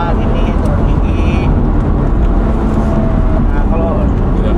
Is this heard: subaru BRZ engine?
yes